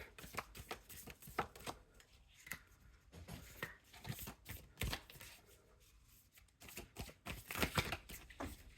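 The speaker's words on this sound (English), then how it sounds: "Oh, this is very hard to shuffle. Oh no, it's a new deck." A new, stiff deck of cards riffles and snaps in quick, uneven bursts, crisp and hard to shuffle, as it is shuffled repeatedly up close with no voices.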